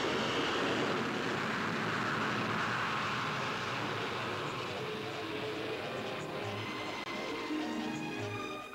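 A Vickers VC10 jet airliner flies overhead, making a broad, steady roar of jet noise that stays loud and continuous, with no voices over it.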